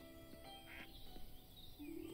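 A few short, faint duck quacks from the video game Everdream Valley, set over steady game music and ambient tones, with a brief higher chirp near the end.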